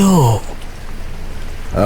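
Steady rain hisses during a storm at night, in a short gap between two people speaking, a continuous soft wash of falling water.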